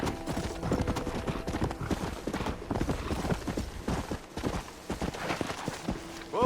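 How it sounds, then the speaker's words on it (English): Horse hooves clip-clop steadily and briskly in Red Dead Redemption, a rapid rhythmic clatter of footfalls running the whole time, close and prominent, with a short whinny-like tone near the start. "they will attack you off of your horse"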